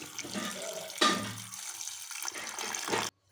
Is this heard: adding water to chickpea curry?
yes